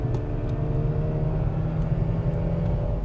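A 2004 Mazda RX8 rotary engine is held high in the revs while driving, producing a steady, droning whir heard from inside the car with no talking.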